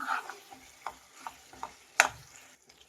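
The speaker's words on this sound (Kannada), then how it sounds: "ಎಣ್ಣೆಯಲ್ಲಿ ಕ್ಯಾಪ್ಸಿಕಮ್ ಹಾಕ್ತಾ ಇದ್ದೀನಿ ಮಿಕ್ಸ್ ಮಾಡಿ" Capsicum frying in oil for capsicum green chilli chicken is stirred in a pan: a faint sizzle runs beneath about six distinct spoon clinks, one much louder near the middle, and then it fades to quiet at the end.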